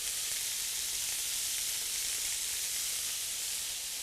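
About half a chopped onion hits a hot pan and sizzles in a steady, even hiss for several seconds, close and alone, with no voices.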